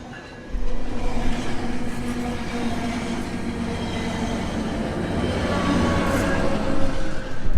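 A train rumbles past close by, a loud continuous roar with rattling wheels and clanking that swells toward the end.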